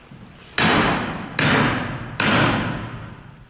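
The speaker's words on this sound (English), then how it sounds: "when we're shocking the door, we're hitting 3 solid strikes" A forcible entry tool strikes a locked door three times in steady succession, each hit a loud, heavy thud that rings and decays for nearly a second before the next.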